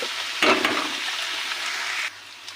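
Onions sizzle steadily in a hot pan while being fried to a reddish brown for a spicy prawn dish, with a louder burst of crackling near the start and a low, even hiss throughout.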